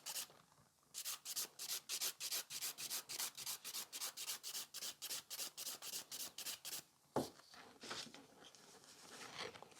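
An electric file or hand file rasps over gel nails while tapering them, giving a fast, regular run of close, bright scraping strokes that pauses briefly and then resumes more loosely.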